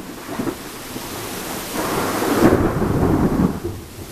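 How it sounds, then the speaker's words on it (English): Thunder during a storm with rain falling: a low rolling rumble builds and peaks midway, then fades, over steady rain hiss, no talk. "Should be another crack of thunder"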